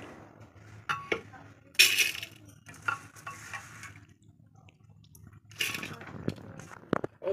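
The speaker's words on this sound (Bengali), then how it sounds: "এইভাবে আমি একটু ধুয়ে নেবো মুগ কড়াইটাকে, একটুখানি এরকমভাবে ধুয়ে নেব" Mung lentils are washed in a pot with soft swishing water, scattered clinks and scrapes against the metal, and a few louder splashy bursts, all close and fairly quiet.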